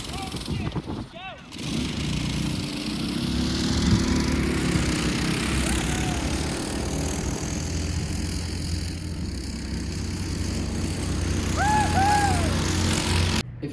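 A Massimo MB200S minibike engine fitted with a torque converter drones steadily and loudly throughout, a continuous small-engine buzz from start to finish with some faint chirping in the background.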